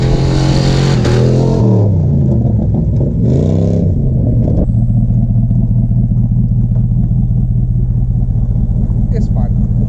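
Pickup truck engine revving hard and accelerating, loud and close, its pitch sweeping up and down in repeated surges, then settling into a strong steady drone.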